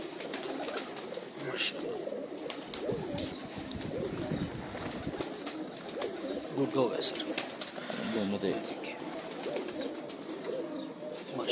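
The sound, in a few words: pigeons cooing on a rooftop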